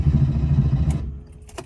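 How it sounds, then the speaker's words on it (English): Porsche 911 Turbo engine cranking without catching, a loud close rhythmic churning of the starter that stops abruptly, followed by a couple of faint clicks. "the car is now just cranking and not going"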